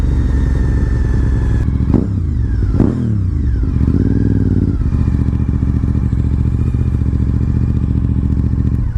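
A Honda RC51 (VTR1000 SP2) sport motorcycle rides slowly through a downtown street, its engine note loud and close throughout, with a couple of brief throttle blips and gear changes early on before it settles into a steady low-speed rumble.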